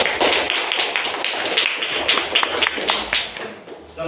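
Indoor audience clapping for a student group presentation, a dense patter of hand claps holding steady for several seconds, fairly close and alone without talk.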